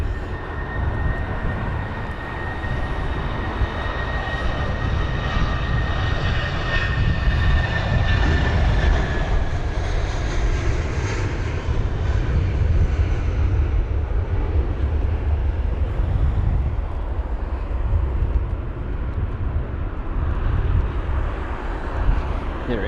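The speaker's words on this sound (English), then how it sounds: "after Faro goes the A319" An Airbus A319 taking off at London Heathrow during stormy winds, a loud sustained jet engine roar with a whining tone that builds and then slowly fades into blustery wind noise.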